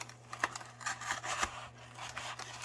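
A knife cutting through a cardboard box, with a handful of short rasping slices and scrapes at close range, separated by brief pauses over a low steady hum.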